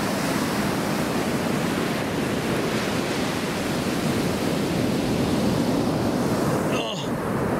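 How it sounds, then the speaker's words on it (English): Steady, full-band rush of light breeze and surf on a beach at low tide, continuous and fairly loud throughout, with a brief swishing disturbance near the end. "It's a light, gentle breeze."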